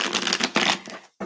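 Tarot cards shuffled close up in a quick, continuous papery riffle that stops briefly, then resumes with a short burst at the end.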